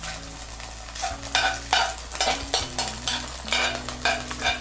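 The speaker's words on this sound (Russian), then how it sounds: "обжариваем с каждой стороны по 5-8 минут" Belarusian potato pancakes (draniki) with meat sizzle steadily in a frying pan, a close, continuous crackle of oil with soft pulsing bursts, and a quiet musical tone sits underneath.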